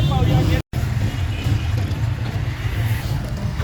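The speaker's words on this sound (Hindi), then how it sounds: "इस वजह से इस रोड पर बहुत ज़्यादा ट्रैफिक होता है।" Heavy road traffic on a busy rural road, a steady wash of cars, buses and trucks passing, heard under someone talking close by.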